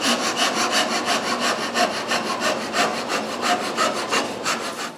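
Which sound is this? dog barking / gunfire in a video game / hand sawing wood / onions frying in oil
hand sawing wood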